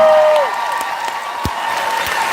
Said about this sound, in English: let's give him a hand for coming